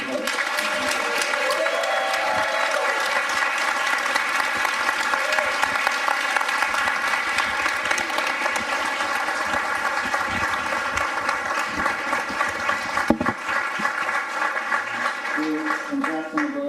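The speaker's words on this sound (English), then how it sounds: "We get one more round of applause for Drew Hart" A large audience at an evening book event applauds loudly and steadily for about seventeen seconds, a dense, even wash of clapping with no break.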